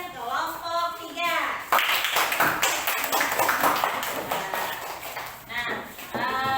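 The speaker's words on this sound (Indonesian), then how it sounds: "kita beri tepukan kelompok 3." A classroom audience claps for group 3 after their presentation, a burst of mixed clapping lasting several seconds, with voices speaking before and after it.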